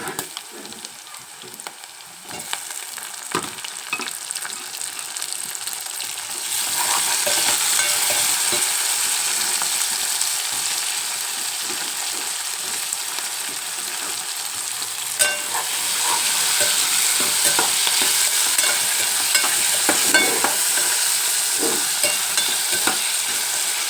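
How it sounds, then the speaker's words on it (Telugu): Chopped tomatoes fry with browned onions in a pan for a dried mango and brinjal curry, giving a steady close sizzle with spoon-stirring scrapes that grows louder after the first few seconds; no one speaks. "టమాటా కూడా ఉల్లిపాయతో పాటు ఇలా యాగనివ్వాలి."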